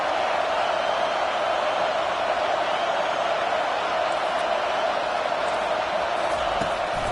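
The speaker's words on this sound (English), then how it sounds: "Decibels rising as the crowd gets behind this defense on 3rd down." A football stadium crowd on third down builds into a dense, continuous roar of cheering and noise that stays loud and steady throughout.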